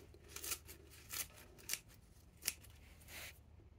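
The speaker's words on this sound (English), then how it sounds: "just literally a pair of scissors," Scissors snip through woad leaves being cut into bits for a yeast dye vat, five crisp, close cuts spaced about a second apart with no talking.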